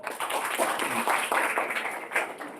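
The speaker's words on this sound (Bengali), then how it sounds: "ওর জন্য একবার জোরে হাততালি দাও" An audience of school students claps their hands at an event, a steady, dense patter of applause lasting throughout.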